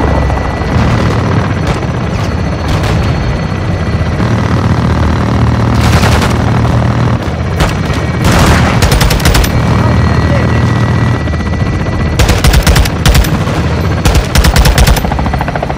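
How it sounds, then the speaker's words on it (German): Gunfire and artillery shots in the video game Call of Duty MW2, with loud bursts of rapid shots and booms repeating over a continuous roaring engine drone, like a helicopter, and a voice speaking at times. "Schüsse abgefeuert."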